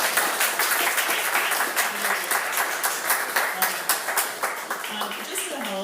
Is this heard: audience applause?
yes